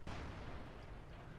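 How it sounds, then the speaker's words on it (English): A tank gun fires in World of Tanks, a sudden heavy boom at the start that rolls into a long, low rumbling tail, distant-sounding and muffled. "I think he just fired a shot."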